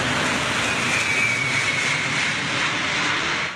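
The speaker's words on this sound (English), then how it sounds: "Looming above homes, this giant of the sky descends on Perth's International" Huge Antonov AN-225 cargo plane, six engines, descending low over homes toward Perth International Airport, its jet roar loud, broad and steady throughout with no voices.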